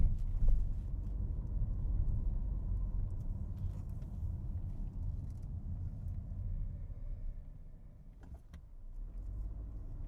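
A car accelerates gently along a short straight road, heard from inside as a steady low engine and road rumble that eases slightly near the end.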